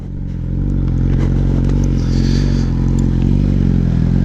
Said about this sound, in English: this is what I was talking about as far as muffler sound